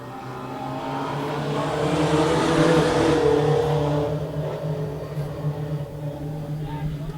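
A pack of 4-cylinder race cars roaring off the green flag in a 10-lap qualifier, engines swelling to a loud mid-clip peak and then holding a dense, droning howl; a voice talks faintly underneath.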